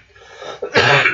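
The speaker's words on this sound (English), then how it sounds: "got that little bit of cough I just can't get rid of" A single sharp cough from a performer with a lingering cough, a short rasping burst after a quiet moment, close and loud.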